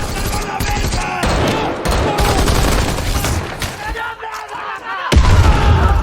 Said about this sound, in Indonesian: seketika memberondong mereka dengan timah panas